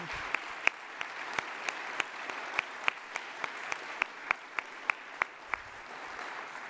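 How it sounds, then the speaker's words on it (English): Gala audience applause at a Patriot Leadership Award event, a steady wash of clapping with distinct sharp individual claps standing out in a regular pattern, moderately loud and continuous without talk. "I'd like to give a round of applause to Brigadier General Wilma Vaught for everything that she's done."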